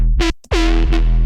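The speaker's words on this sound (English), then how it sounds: "parallel reverb." A distorted Serum synth bass with a parallel reverb chain plays two loud, buzzing, harmonically rich notes separated by a brief cut, each tail smearing into reverb.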